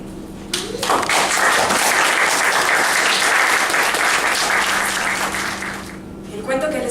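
An audience at a live storytelling performance breaks into loud, sustained applause that swells quickly and holds steady for several seconds before fading out.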